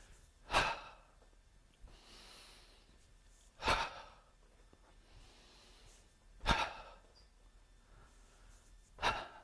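Deep breathing during a qigong exercise, four slow, strong breaths spaced about three seconds apart, close and clear with quiet pauses between them.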